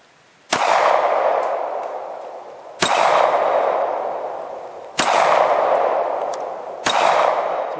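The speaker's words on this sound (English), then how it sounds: "give the Grizzly target a couple more shots here" Four gunshots ring out at slow, even intervals, each a sharp crack followed by a long metallic ring from a Grizzly steel shooting target at an outdoor range.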